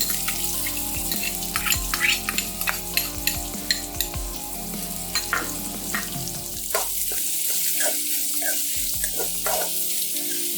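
A small onion sautéing with cabbage in a pan for a Tamil cabbage stir fry, a close sizzle punctuated by repeated sharp scrapes and knocks of a spoon stirring, the frying hiss growing steadier near the end.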